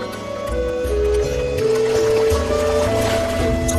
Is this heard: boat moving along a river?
yes